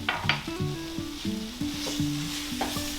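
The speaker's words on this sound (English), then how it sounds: "Mix that in as well, kind of with that little paste you got going" Minced garlic, three cloves, and dried thyme are stirred into a thickening sauce in a pan for green bean casserole: a close, steady sizzle with repeated spoon scrapes and soft knocks at a quick, uneven rhythm, no voices.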